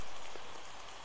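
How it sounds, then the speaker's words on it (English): Steady rain falls outdoors at a dog-training session, a dense, even hiss of drops striking the ground and nearby surfaces, fairly soft and continuous, with no talk. "it does suck out here because it is raining"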